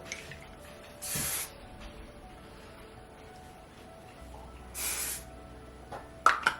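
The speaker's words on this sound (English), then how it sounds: "I'm going to finish this off with some spray." Hairspray hisses from an aerosol can onto hair in two separate bursts of about a second each, close and moderately loud in a quiet room, and a few small clicks follow.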